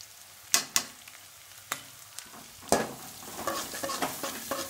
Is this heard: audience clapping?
no